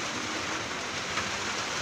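Fairly heavy afternoon rain falls steadily as a dense, even hiss, constant throughout with no voices.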